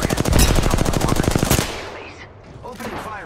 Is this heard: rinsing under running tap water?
no